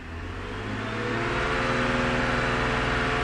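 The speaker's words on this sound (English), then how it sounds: "we're just going to hold our foot on the gas and go to around 2500 RPM" A car engine revved and held at about 2500 RPM, rising from a lower hum to a steady, sustained drone with a clear mechanical whine, fairly close and alone without talking.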